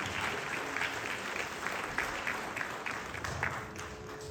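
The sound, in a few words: audience applause at arangetram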